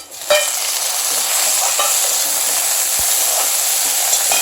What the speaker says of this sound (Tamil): இப்போ வெங்காயம் வதங்கிடுச்சு, தக்காளி போடுறேன்